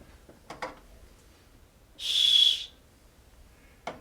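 A folk art clay whistle gives one shrill, steady blast lasting about half a second, close and loud, between a few soft taps and handling knocks.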